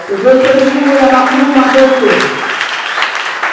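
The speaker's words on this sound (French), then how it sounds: "Est-ce qu'on peut acclamer le roi du roi?" A church congregation at a women's conference applauds and cheers loudly and steadily for several seconds, with voices and sustained tones blended into the clapping.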